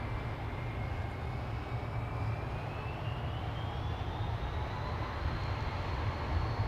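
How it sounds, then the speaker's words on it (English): An Aegean Airbus A320 jet departing for Athens from Schiphol, a loud continuous engine roar with a rising whine, building slightly toward the end, no voices over it. "Aegean A320 to Athens. What a beautiful machine this is."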